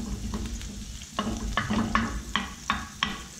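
Butter is stirred into a hot lobster scampi pan, producing a soft background sizzle punctuated by several rhythmic scraping strokes of the spoon against the pan.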